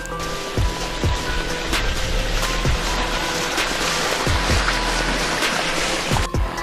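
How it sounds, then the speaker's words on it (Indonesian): A flash flood of mud, rocks, sand, large logs and branches rushing down a river off a mountain, a loud continuous roaring wash with repeated thuds and knocks from debris tumbling in the flow. "Banjir bandang yang sangat deras itu membawa material lumpur dan kayu besar bersama ranting-ranting pohon"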